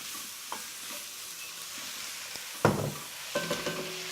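Wild greens with toasted spices sautéing in a pan, a soft continuous sizzle with a few utensil taps and one sharp scrape partway through, close, with no voices.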